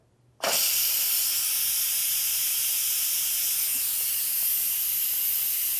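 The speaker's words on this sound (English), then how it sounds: "as soon as I flip this, it's going to go psh, and it's going to release the steam" An Instant Pot pressure cooker vents steam in a sudden loud hiss that starts abruptly and holds steady and strong to the end, with no talking over it.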